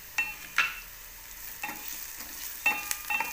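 Two red chillies are stirred into onions sautéing in a pan: a soft, low sizzle under intermittent sharp scraping and clinking strokes of a spoon, several spaced over a few seconds.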